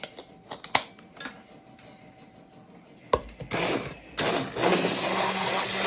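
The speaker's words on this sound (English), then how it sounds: "let's get our immersion blender and kind of blend this sauce up with those garlic cloves and the shallots in it" An immersion blender whirs through hot pot roast sauce with garlic cloves and shallots, starting after a few quiet clicks and knocks, then running loud and steady for the last few seconds close to the listener.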